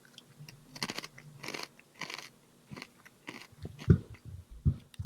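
Someone bites into and chews a crunchy chip up close, making a string of sharp, irregular crunches and crackles with short pauses between bites.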